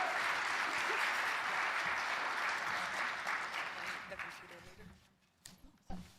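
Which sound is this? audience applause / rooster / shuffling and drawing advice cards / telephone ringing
audience applause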